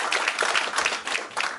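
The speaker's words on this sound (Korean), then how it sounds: "박수 한번 크게 좀 부탁드리겠습니다" Audience applause at a public hearing of the Korean Amateur Radio League: a brief burst of many hands clapping, dense and fairly close, lasting under two seconds.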